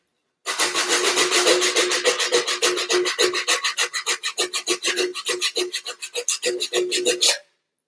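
Steady, rhythmic rasping of sandpaper rubbed back and forth over a hard hollow bamboo tube for a bicycle frame, loud and close, with strokes quickening toward the end.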